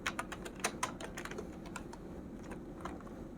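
Rapid keystrokes on a computer keyboard while writing CSS code, a steady run of light clicks that clusters in short bursts over a faint background hum, with no voices.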